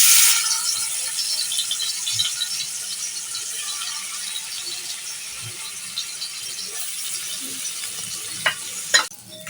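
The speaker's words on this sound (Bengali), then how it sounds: "মাছগুলো আমি এখন ভেজে নেব" Fish coated in turmeric and salt fries in a pan with a steady, close hiss of sizzling oil, punctuated by a few sharp clinks and scrapes near the end.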